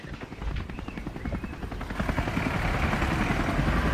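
A helicopter flies overhead outdoors, its rotor beating in a steady chop that swells louder as it draws nearer, with no talk over it.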